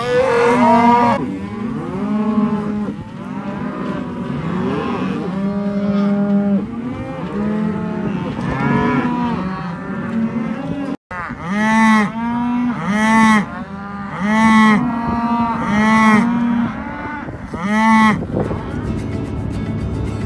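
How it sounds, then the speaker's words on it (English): Ranch cattle on shipping day, cows separated from their calves in corrals, moo repeatedly and loudly, with several overlapping drawn-out calls and a brief gap before a fresh run of rhythmic bellows. "The cows aren't too happy about being separated from their calves."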